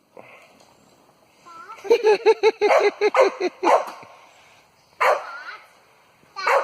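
A playful dog with a stick barks in a rapid rhythmic series of close, yappy, growly barks, followed by a couple of louder separate barks after short pauses, with voices mixed in.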